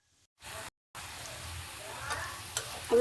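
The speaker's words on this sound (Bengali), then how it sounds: "আমি পেঁয়াজটাকে লালচে করে ভেজে নিয়েছি।" Onion frying in a pan gives a steady, close sizzle that cuts out briefly near the start, with a few faint clicks from the pan.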